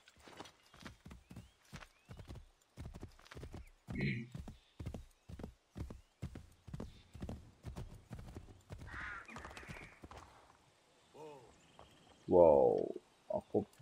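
Horse hooves clip-clop in a steady, rapid rhythm through a game of Assassin's Creed III, with a brief whinny and snorts breaking in near the end, all close and fairly loud.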